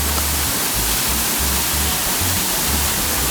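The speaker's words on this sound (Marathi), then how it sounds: "हा एक नॉर्मल फ्लो आहे हा चौथा वॉटरफॉल" A waterfall in normal flow, the fourth of a group of four falls about two hours from Mumbai, gives a steady, loud, full roar of rushing water with no breaks and no voices.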